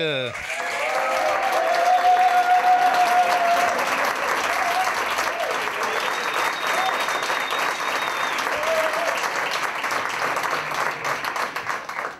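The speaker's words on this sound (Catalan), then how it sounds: "Moment d'aplaudir en Jordi" Loud applause from the crowd at a stand-up monologue contest in a bar, swelling quickly and holding dense and steady, with whoops and cheers mixed in before it thins slightly toward the end.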